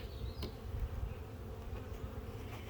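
Honeybees buzz steadily in a bee yard, a dense continuous drone close to the microphone with no talking.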